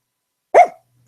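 A single short bark from a pet Labrador, close and clear, about a quarter second long with a brief tail, in an otherwise quiet moment.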